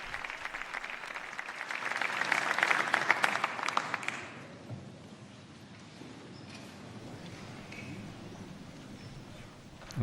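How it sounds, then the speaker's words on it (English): Sustained applause fills a formal columned hall in Spain after Pope Leo's address to the civil authorities, a dense burst of clapping for about four seconds that fades into quieter crowd murmur. "we hear the sustained applause for Pope Leo's address to the civil authorities of Spain"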